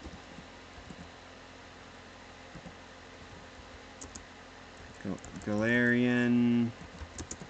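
Faint, scattered key clicks come from a computer keyboard, quiet and intermittent under a low background hum, while a person talks briefly in the middle.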